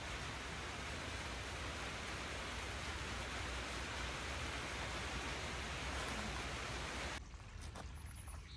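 Steady, dense hiss of rain falling continuously, broad and even throughout, easing slightly near the end.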